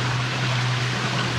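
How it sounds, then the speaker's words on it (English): Rushing water churns from a canal lock somewhere below, a steady broadband roar with a low hum running through it, loud and continuous with no talking. "We've got some water noise from the lock down there below."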